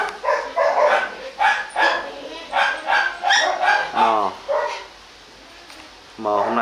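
A yellow bobtailed dog barks close up in a quick series of about eight sharp barks, then falls quiet briefly before one more bark starts.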